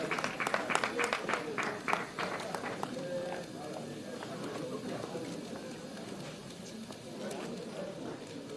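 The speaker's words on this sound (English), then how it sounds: "When I clap for her, Congratulations to Victor" Applause at a journalists' awards ceremony in Sierra Leone, a burst of crowd clapping that fades into a busy room murmur with voices in the background.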